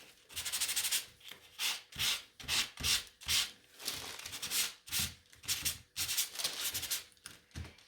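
Wooden stems of a Hello Spring sign are sanded in short rhythmic strokes, a near, dry rasping scrape repeated about a dozen times with brief pauses between.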